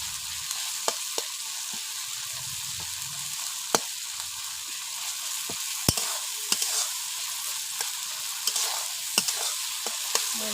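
Masala with tomatoes frying for rupchanda fish curry, a steady close sizzle in the pan punctuated by frequent sharp spatula taps and scrapes, no speech.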